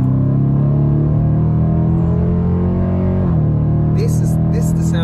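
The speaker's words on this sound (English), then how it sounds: "Brand new car is roaring" A 2020 Dodge Challenger R/T with its mid muffler deleted runs close by, a deep, steady droning exhaust rumble with a brief pitch dip partway through and faint extra noise near the end.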